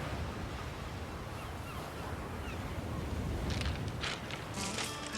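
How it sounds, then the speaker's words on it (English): Ocean waves wash onto a beach at low tide in a steady, soft rush of surf, with wind noise and a few brighter splashes near the end. "hear the waves crashing a little bit"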